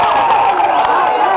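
A large crowd at a party anniversary event where Kamal Haasan is speaking cheers and claps in a loud, sustained roar of many voices and hands.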